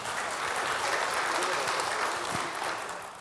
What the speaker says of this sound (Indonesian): Ya, tepuk tangan dulu lah buat Metro TV.